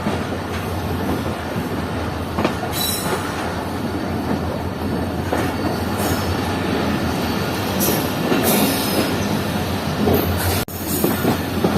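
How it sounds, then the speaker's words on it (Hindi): A passenger train rolls into platform 3 at Hyderabad Junction station, a loud continuous rumble of wheels on rails with periodic clicks and faint squeals, close and sustained throughout. "यस, हमारी ट्रेन प्लेटफॉर्म नंबर 3 पर पहुंच रही है हैदराबाद जंक्शन रेलवे स्टेशन के।"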